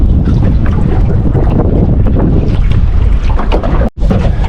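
Steady, loud wind buffets the microphone outdoors on open water while fishing from a boat, a continuous roaring rush that cuts out for a split second near the end, with no talking.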